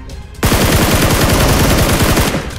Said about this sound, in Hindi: अभी एकेएम से फायर है